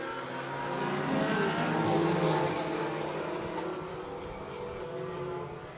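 Race cars roar off the start of a race, a broad, loud engine rumble that swells toward the middle and then settles into a steady, dense drone from a pack of cars.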